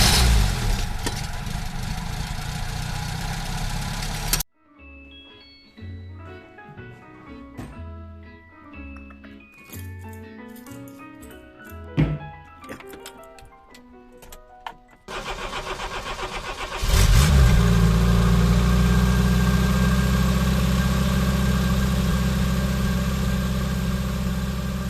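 Renault 10 with a Cléon Fonte engine cranks, fires and settles into a loud, steady running idle close by, after earlier stretches of engine noise and a quieter interval with music-like tones.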